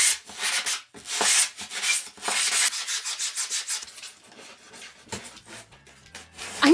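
Foam being sanded with a rough abrasive, harsh close rasping strokes in quick repeated bursts that soften toward the end, with a brief knock near the finish.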